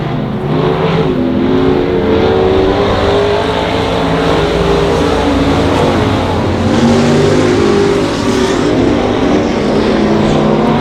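Race cars lapping at Monarch Motor Speedway, engines roaring in a loud, continuous wall of overlapping revving, with several cars close at once and no break in the noise.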